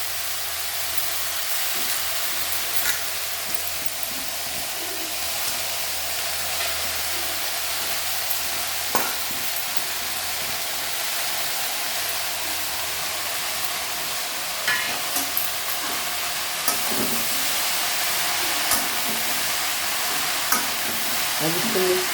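Saag being stirred and cooked in a pan at home, with a steady soft frying sizzle and hiss throughout and occasional scraping clicks of stirring, close and moderate in level.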